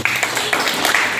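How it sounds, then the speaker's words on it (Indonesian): High school students applaud a classmate during a school activity session at SMA Wahidiyah Bojonegoro, a brief, steady burst of close crowd clapping. "tepuk tangan dulu buat teman Anda"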